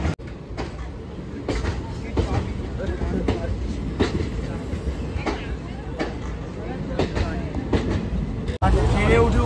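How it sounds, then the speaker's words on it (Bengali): A train pulls into Haldipara railway station with a loud, continuous rumble and repeated rhythmic clacks of wheels over rail joints, close by, while voices murmur faintly in the background. "আর দেখতে পাচ্ছ ট্রেন ঢুকছে এখানে।"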